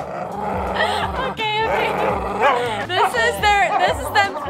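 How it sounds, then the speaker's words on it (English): Puppies growl and yip as they play tug of war, close and noisy and in short rough bursts, with a person talking over the scuffle. "Oh, they're playing tug of war."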